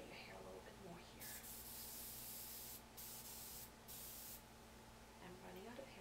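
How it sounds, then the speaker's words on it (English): Hairspray hisses in bursts onto hair during a short ballroom-style hairdo, several sprays of a second or so each with brief pauses, close and fairly loud over a steady low background. "I'm going to spray your hair a little bit more here"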